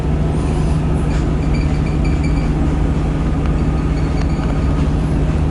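A free shuttle train runs past Bang Sue station in Bangkok, a steady, loud rumble with a low hum and faint squeals and clatter throughout, no talking.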